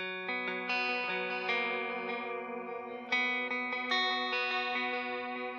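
Electric guitar notes ringing out through extreme delay settings with heavy repeating echoes and a shimmering, chorus-like wash that smears each note into the next.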